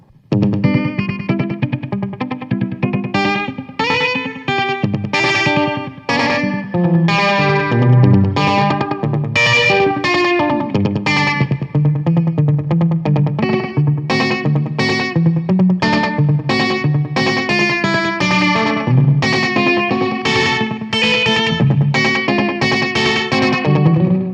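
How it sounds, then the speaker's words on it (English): An electric guitar through a Strymon Deco pedal set to a multi-head delay plays a busy run of notes, each echoed in three repeats that blur into a dense, slightly saturated wash, with no talk. "now we're getting a cool kind of multi-head delay kind of thing. Three repeats"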